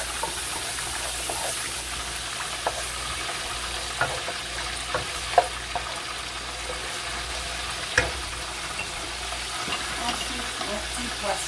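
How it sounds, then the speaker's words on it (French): Chopped onion sautéing in oil in a cooking pot gives a quiet, steady sizzle with occasional soft clicks and knocks from stirring, and no talking over it. "Ajoute un peu d'oignon que je fais revenir."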